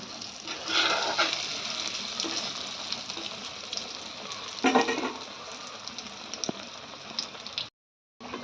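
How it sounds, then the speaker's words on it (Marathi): Crispy pav rolls deep-fry in oil over medium heat with a continuous bubbling sizzle that swells in bursts as they are turned and stirred, then cuts off abruptly near the end. "मीडियम आचेवरच तळून घ्यायचं आहे म्हणजे आपलं जळणारही नाही"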